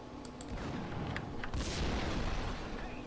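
In the Max Payne video game, a shot tank explodes: a few sharp gunshot cracks are followed by a heavy rumbling boom over steady game background noise.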